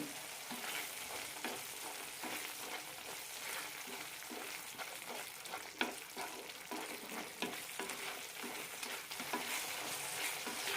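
Tomato pickle with chilli powder, asafoetida and roasted fenugreek fries in a pan, giving a constant close sizzle broken by repeated scraping stirs, with no talking.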